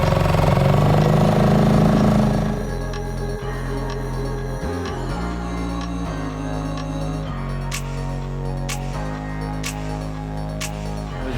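A small dinghy outboard motor runs near Bang Bao in Thailand, a steady close engine drone with rhythmic throttle changes. It follows a louder rumbling opening, and there is no talking.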